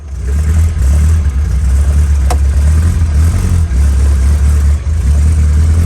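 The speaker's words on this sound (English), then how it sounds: "Sort of a very cammy engine, so it has a bit of a lumpy, racy idle." A 1960 Bugeye Sprite race car with a heavily cammed engine idles close by, loud and lumpy with an uneven, loping throb that rises and falls in pulses, no voices.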